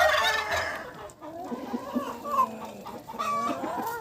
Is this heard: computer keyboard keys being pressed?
no